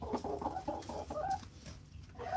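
Backyard chickens cluck softly in a quiet, steady stream of short calls at a modest distance, with no voices.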